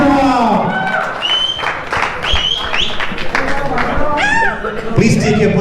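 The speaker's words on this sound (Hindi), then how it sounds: "एक बार जोरदार तालियां" Clapping and cheers from guests at a sangeet ceremony rise under an anchor's loud, lively voice, with music-like tones and crowd noise mixed in.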